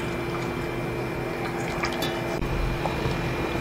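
Melted jaggery syrup being filtered, a faint steady trickle and occasional drips of thick liquid over a low background hum.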